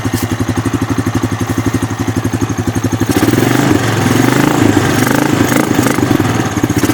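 A quad ATV engine, abandoned for five years, idles with a steady rapid putter and clatter close by, then its note roughens and grows louder partway through.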